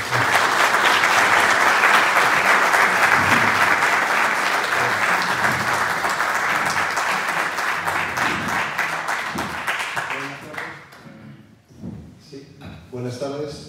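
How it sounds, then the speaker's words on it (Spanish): Loud, dense applause from a seated audience at a round-table talk fills the room for about ten seconds, then thins out and dies away, leaving scattered claps and a voice beginning to speak. "darles la bienvenida y un gran aplauso de todo el público"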